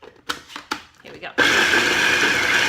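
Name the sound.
food processor chopping pecans, raisins and dried figs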